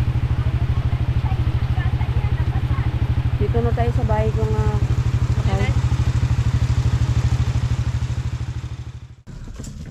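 A motorcycle engine runs steadily up close, its low, even throb continuous almost to the end, where it cuts out, while people talk over it, out on a rainy road in the Mindanao countryside.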